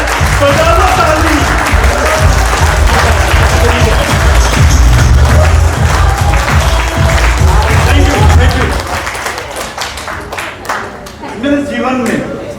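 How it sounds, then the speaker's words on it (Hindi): Audience at a wellness company's first get-together trip clapping hands in a loud, sustained burst of applause that thins out toward the end, with voices mixed in. "मौका मिला है, बजा लो ताली।"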